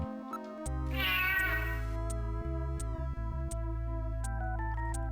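Cat meows from the Sega CD game Snatcher, a series of clear, tonal electronic mews set over a steady synthesized game soundtrack, with a brief bright burst early on.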